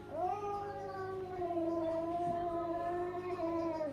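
A large cat gives one long, drawn-out meow that wavers in pitch. It is fairly close and clear over a quiet room background.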